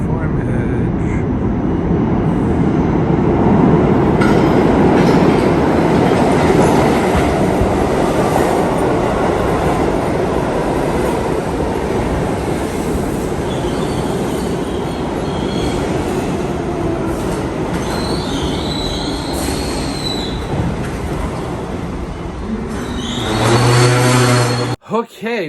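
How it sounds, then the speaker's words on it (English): A New York subway uptown local 1 train arrives at a platform with a loud, steady rumble and roar of wheels and cars that fades as it slows, with brief squeals and a chime near the end. "Is an uptown local 1 train to Van Berlin Park, 242nd Street."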